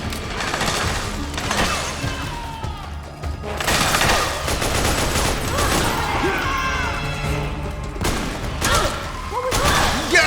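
Rapid bursts of gunfire from the video game Metal Gear Solid 4 crackle continuously with heavy booms and crashes, loud and dense across the whole stretch, with little pause.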